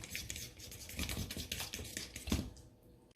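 A fork stirs mashed bananas and peanut butter in a bowl, giving rapid, irregular clicking and scraping taps close by, with no talking.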